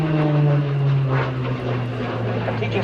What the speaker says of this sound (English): As Liam comes round and passes back in front of you, he'll be pushed into his seat with the force of nearly half a ton.